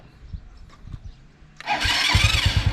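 A Honda Wave 125 motorcycle with a suspected fuel-system fault, stumbling when the throttle is opened, cranks and fires up. Quiet clicks and knocks come first, then the engine catches loudly and runs on in a steady, rough, close idle.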